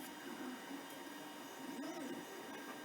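A 3D printer runs steadily while printing a soft-plastic lure pour mold, its stepper motors giving a faint, warbling whine and shifting tones over a constant background hum.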